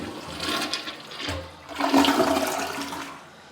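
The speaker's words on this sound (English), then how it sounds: "I'll give you guys a test flush for you guys." Test flush of a toilet in a basic hotel bathroom in Pigeon Forge: a loud, close gurgling rush of water that surges, swirls and fades over a few seconds, with no talking.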